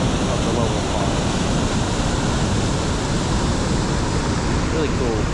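Steady rushing roar of the lower falls at Valley Falls State Park, a broad, constant wash of falling water heard from nearby, with no break in the sound.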